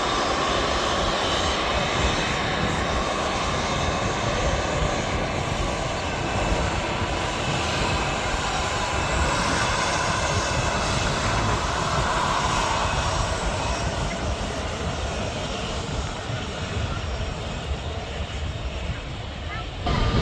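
An airliner takes off from runway 05L/23L at Manchester Airport, its engines a loud, steady roar that fills the whole stretch, with someone talking faintly over it.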